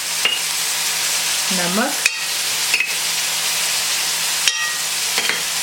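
Green onion and potato pieces frying in a pan for a spiced potato dish, a steady sizzle running throughout with brief stirring clatters and a short tonal sweep partway through.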